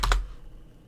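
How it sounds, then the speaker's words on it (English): Two quick, loud computer keyboard keystrokes land right at the start, close to the microphone. Near-silence follows. "If the keyboard sounds loud, by the way, I do apologize."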